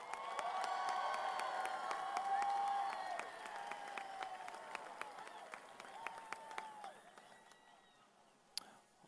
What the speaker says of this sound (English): Please give him a warm round of applause once again for Mr. Charles Gray.